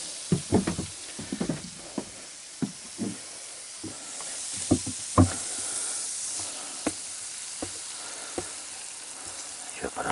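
Food fries in vegetable oil over a field kitchen fire, a steady close sizzle broken by repeated knocks and scrapes of a utensil against the pan.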